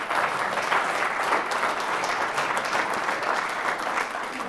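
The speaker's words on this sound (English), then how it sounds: "give a round of applause for these two dedicated public servants" Audience applause at a 2018 mayoral candidate debate in Hudson, a steady, sustained round of clapping from a crowd that continues evenly without any speech.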